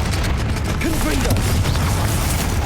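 A Confringo fire spell blasts in Hogwarts Legacy, a loud, dense burst of crackling, booming energy that rolls on without pause for under three seconds.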